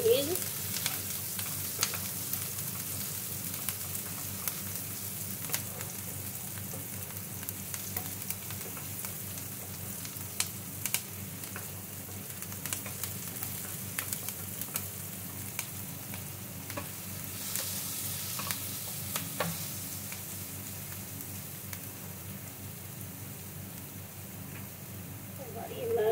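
Onion and garlic fry in a pan for pasta, a steady close sizzle with faint stirring scrapes running throughout, a soft background hiss with no voice over it.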